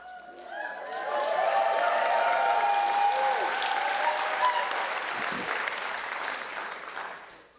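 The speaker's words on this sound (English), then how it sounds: "You are clapping as if you could reach up and touch us" A large seminar audience claps together in sustained, dense applause that swells quickly, holds steady for several seconds, then gradually thins and tapers off.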